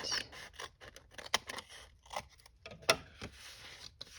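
Scissors snip through folded paper while a seed packet pouch is trimmed for a junk journal, giving several short, crisp cuts and scrapes at close range with brief pauses between them.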